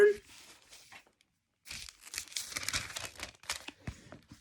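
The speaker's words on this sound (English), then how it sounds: "Page turn." A thin Bible page turned by hand, giving a brief papery crinkle and rustle up close, with a short pause before a longer stretch of crisp crumpling and sliding paper noise.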